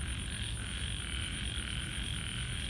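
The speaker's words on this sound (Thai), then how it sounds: "ผมจับกบให้ดูนะ" Frogs croak in a steady, unbroken chorus after heavy overnight rain, with no voices and a constant drone throughout.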